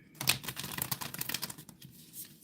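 Tarot cards riffled and shuffled by hand in a quick papery flurry of flicks and soft slaps, close and fairly quiet, tapering off toward the end.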